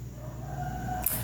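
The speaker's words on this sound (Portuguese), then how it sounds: "pedir encarecidamente que vocês desconsiderem o barulho desse galo" A rooster crows nearby, a drawn-out tonal call held over a low background hum before a brief sharp click at the end.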